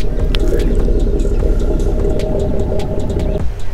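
A modified Infiniti Q60 exhaust rumbles deeply at idle, a loud, steady low drone with a faint whine above it, cutting off sharply near the end.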